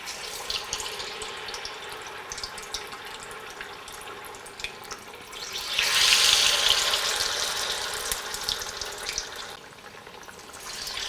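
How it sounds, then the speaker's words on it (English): Battered pinwheels deep-fry in hot oil over medium heat, giving a continuous fizzing sizzle that swells louder for a few seconds in the middle before easing back. "deep fry these pinwheels over medium heat for about 4 to 5 minutes"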